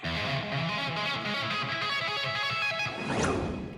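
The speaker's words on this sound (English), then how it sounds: "That is the third movement from Moonlight Sonata." Fast, dense guitar passage of the Moonlight Sonata third movement played at a very quick tempo, busy and continuous with a brighter, noisier flourish near the end, heard alone without talk.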